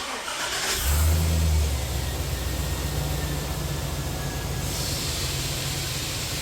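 A Chevrolet Silverado engine with a failing, junk power steering pump runs steadily and fairly loud, with a low mechanical drone and a brief swell early on, no talking over it.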